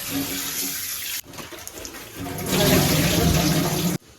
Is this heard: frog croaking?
no